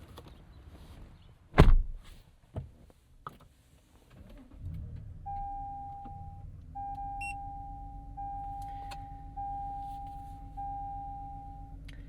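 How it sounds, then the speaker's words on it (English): A 2026 Toyota Tundra TRD Pro hybrid with a tuned twin-turbo engine starts on its starter motor, a sharp cranking burst followed by the engine settling into a low steady idle as cabin chimes beep repeatedly. "it used the starter motor to start it there"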